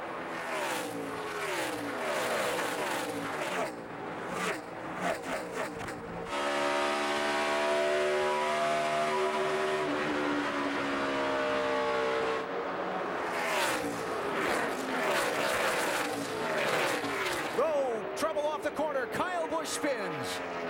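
NASCAR stock cars race four wide at Kansas in the 2012 Hollywood Casino 400, a sustained roaring engine drone that swells as the pack passes, with commentators talking over much of it.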